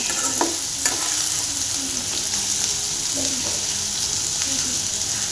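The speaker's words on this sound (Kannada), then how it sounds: "ಫ್ರೈ ಆಗ್ತಾಯಿದೆ ಅಂತೇಳಿ ಇಷ್ಟುವರೆಗೂ ಫ್ರೈ ಆಗಬೇಕು" Bitter gourd pieces frying in a pan for a palya, giving a steady loud sizzle with occasional scraping stir strokes, no voices.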